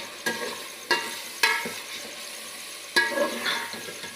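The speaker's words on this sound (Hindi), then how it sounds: "इसको अच्छी तरह फ्राई करेंगे।" Meat sizzling in a pan with red chili, turmeric and salt, a steady frying hiss broken by a few sharp spatula scrapes and taps, close and alone.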